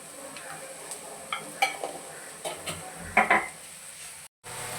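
Chillies with salt frying in a pan while being stirred: a steady low sizzle with several short scraping stirs, a louder clatter near the end, then a brief gap.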